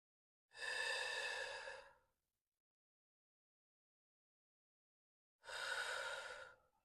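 Two slow, deep breaths during a yoga flow practice, each a long airy breathy rush lasting over a second, close and quiet with a long silence between them and no talk.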